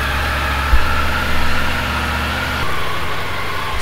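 Triumph Tiger 900 Rally Pro motorcycle engine catching with a brief thump, then settling into a steady, close idle with a low rumble that shifts slightly partway through.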